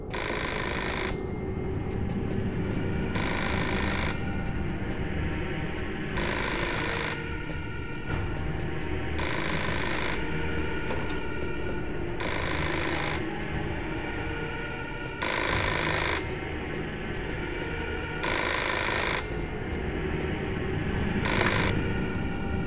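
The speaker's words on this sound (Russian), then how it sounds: "Нужно ответить на телефонный звонок." Telephone ringing in the Fahrenheit Indigo Prophecy Remastered video game, a bright electronic ring repeating in regular bursts about every three seconds over a low ambient hum, with no talk.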